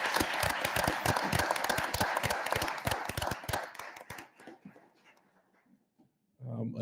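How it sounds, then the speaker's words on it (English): Applause and clapping from the audience at a Village of Dolton regular board meeting, a dense burst of many hands that thins out over several seconds before a voice returns at the end. "I want to take a moment and ask everybody to give a round of applause to the employees for the Village of Dolton"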